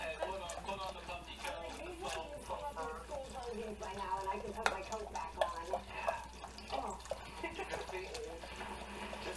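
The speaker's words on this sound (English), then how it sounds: "So I'm going to continue to stir." A whisk scrapes and swirls through thickening banana pudding custard in a pot on the stove, soft repeated stirring and faint metallic clinks kept low beneath a person speaking throughout.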